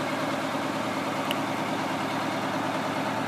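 A Detroit Diesel Silver 92 engine in a 1974 International 4200 truck idles close by, a steady, dense rumble that holds level from start to finish with no other sounds.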